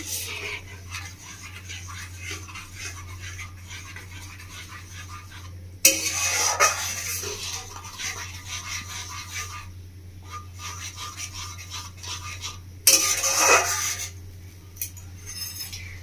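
A spoon scrapes and clinks in a cooking pot as spice paste is gently stirred for a Bengali village-style kalbos fish kalia, with two brief louder bursts of clatter over a steady low background hum.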